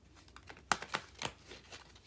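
A short, quiet run of papery flicks and riffles as a tarot deck is shuffled, with a few sharper snaps in uneven rhythm.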